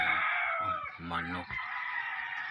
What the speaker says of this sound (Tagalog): Manok na yung tumuga.